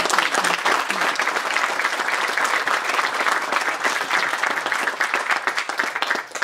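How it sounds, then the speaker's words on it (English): An audience at a commissioner's proclamation for Troop 12's 100th anniversary gives a round of applause, dense and loud clapping sustained throughout, tapering slightly at the very end. "I'd like to maybe hear a round of applause for those two folks"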